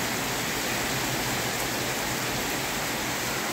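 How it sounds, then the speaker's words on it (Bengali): Heavy rain pours down steadily at night, a dense, unbroken hiss of water filling the whole scene with no voices over it. "খুব জোরে বৃষ্টি হচ্ছে"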